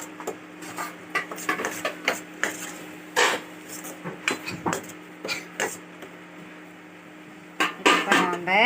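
A spoon or ladle stirs food in a metal cooking pot, giving a run of uneven scraping and clinking knocks, close and moderately loud, with a short pause before a final flurry of clatter.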